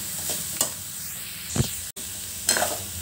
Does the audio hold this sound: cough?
no